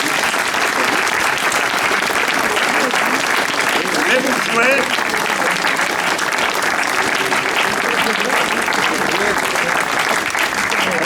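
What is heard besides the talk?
applause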